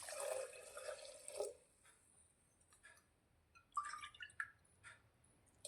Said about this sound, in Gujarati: હવે આપણે જે વાટકીથી બાજરી લીધી હતી તે જ વાટકીના માપથી આપણે 4 વાટકી પાણી અંદર રેડીશું